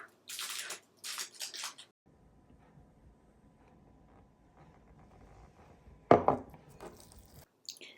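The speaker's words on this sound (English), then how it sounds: "Mix together again." A semi-liquid mixture is mixed into ground meat for seaweed soup, giving two bursts of wet, squishy stirring separated by a quiet pause, with a sharp knock near the end.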